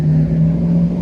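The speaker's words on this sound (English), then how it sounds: "Hold on, noisy truck." Noisy truck passing on a city street at night, a loud steady engine drone with a strong low hum holding close throughout, no voices.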